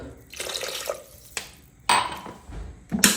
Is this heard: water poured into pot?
yes